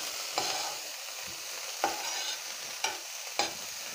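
Onion, cabbage, carrot and peas fry in a pan for an Assamese bread sandwich filling, a quiet steady sizzle punctuated by four sharp spatula scrapes spaced about a second apart.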